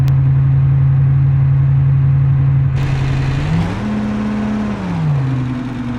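A truck in BeamNG at full throttle towing four trailers, its engine droning loud and steady, then straining as the pitch climbs and shifts between gears.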